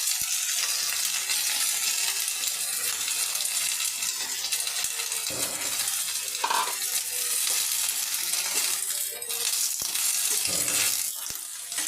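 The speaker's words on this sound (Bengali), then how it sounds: "পলতা শাকগুলো আমি হালকা করে ভেজে নেব" Steady, dense sizzling of pointed gourd (palta) leaves frying in a pan, continuous and close, with occasional stirring scrapes and clinks; no talking.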